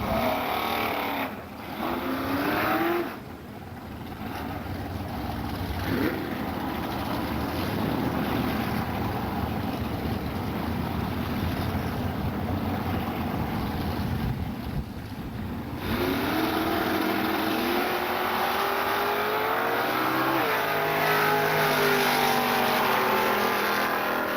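A Chevrolet Camaro makes a drag racing run at a strip, a steady, moderately distant engine roar mixed with wind noise, its pitch climbing toward the end.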